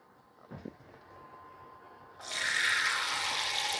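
Water pouring from a tap onto flour, a sudden steady gush of running water following a couple of soft knocks, close and alone.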